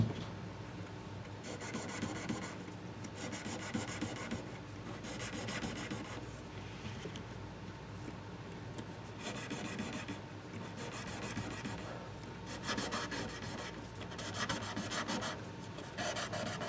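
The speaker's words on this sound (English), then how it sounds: "I've got some 1000 grit sandpaper, and I'm just very lightly hitting these frets." Fine 1000-grit sandpaper lightly rubbing the frets of a Yamaha FX335C acoustic guitar, a soft rhythmic rasping in repeated strokes with brief pauses, no talking.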